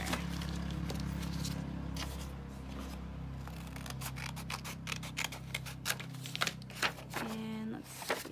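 Paper cover lining being trimmed with scissors, with crisp rhythmic snips and rustling paper that grow sharper and more frequent toward the end, close to the mic, over a low steady hum.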